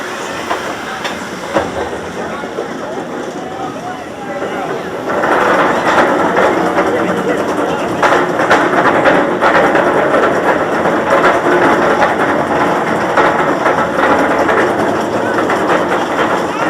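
Dr. Diabolical's Cliffhanger roller coaster train at Six Flags rumbles along its track in a loud, steady roar with clattering, growing louder after a few seconds and continuing without a break.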